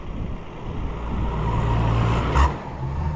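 A car slows down on a thick, unstable muddy track in the countryside, its low engine rumble steady and fairly close, with a brief louder swell near the end; no one speaks.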